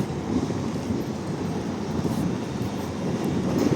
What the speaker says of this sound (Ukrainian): Бачите, трамвай їде.